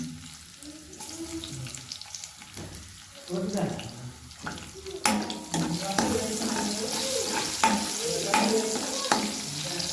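Cumin, coriander seeds, dried red chillies and crushed garlic frying in a pan for broccoli fry, a rising hiss and crackle with stirring scrapes that grows louder midway, close, with no talking.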